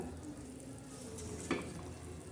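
Drumstick pods dropped into a hot pan already seasoned with salt, turmeric and red chilli powder, giving a steady hiss of frying with a sharper burst of sizzle midway; no one speaks.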